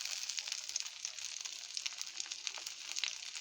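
Onion, green chili and coriander leaves sizzle in a pan over cabbage and egg, a steady close hiss of frying with faint crackles throughout.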